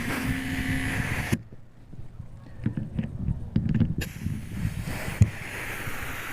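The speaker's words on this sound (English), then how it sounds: "You can see I already got some air going through it." Compressed air from an air compressor hose blows through a travel trailer's RV water lines as a steady rushing hiss, which cuts out to faint handling clicks and taps, then resumes.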